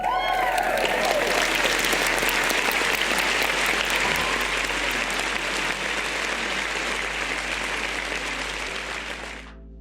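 Dense crowd applause fills roughly ten seconds, steady and close with a broad wash of clapping that eases off slightly near the end.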